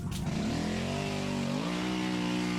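Dirt bike fitted with an exhaust silencer revving through a muddy hole, engine note climbing steadily then holding at a muffled, sustained drone, moderately close and alone.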